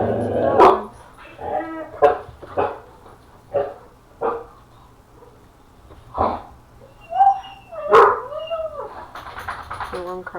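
Dogs bark in a series of loud, close, spaced barks and yips, with a whimpering, whining tone toward the end.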